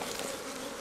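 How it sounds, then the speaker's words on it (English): Bees buzzing in a forest, a brief, soft, steady drone at close range with no other sounds. "bees forage for food to build hives"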